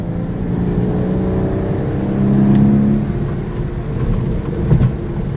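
A car is driven along the road, its engine rising and falling as the transmission shifts through the gears, with a steady low road and engine drone close by and no voices.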